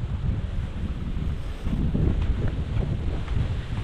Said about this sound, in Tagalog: patulak po yung hangin, amihan, patulak siya